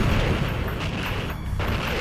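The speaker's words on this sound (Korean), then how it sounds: "만주벌에 울려 퍼진 7발의 총성" Gunshots at a railway station during an assassination, heavy booming reports over a loud, dense rumble, with no clear separation between individual shots.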